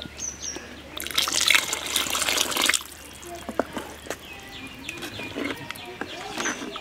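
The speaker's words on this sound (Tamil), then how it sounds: "இப்ப தேவையான அளவு தண்ணி ஊத்திக்கலாம்" Water is poured into a simmering curry leaf and garlic curry in a village kitchen, a brief gushing splash followed by lighter trickles, with outdoor birds and farm sounds around.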